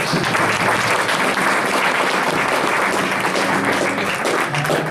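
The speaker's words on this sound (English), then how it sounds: "Let me hear a big applause." Audience at a bluegrass music jamboree applauding, a continuous loud burst of clapping that holds steady for several seconds.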